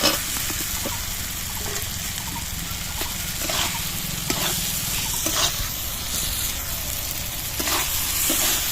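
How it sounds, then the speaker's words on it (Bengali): Potatoes tossed into fried spice paste in a pan sizzle with a constant hiss, broken by intermittent scraping and clinking as they are stirred, for a soybean and egg curry. "মশলাটা ভাজা হয়ে গেছে, এবার আমি আলুটা তুলে দিচ্ছি।"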